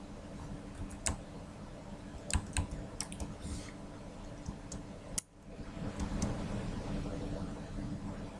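Typing on a computer keyboard for SAS programming, with scattered close keystroke clicks at an uneven pace over a steady background hum, a few heavier taps standing out.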